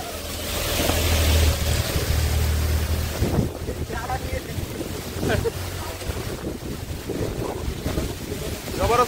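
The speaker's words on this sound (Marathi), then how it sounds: "जबरदस्त पाऊस आहे. जवळचा किल्ला सर काढतोय. पाऊस आणि वारा वाढत चाललाय." Strong wind gusts batter the microphone with roaring, buffeting rushes, mixed with splashing and faint voices in the background.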